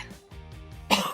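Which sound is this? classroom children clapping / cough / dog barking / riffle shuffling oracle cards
cough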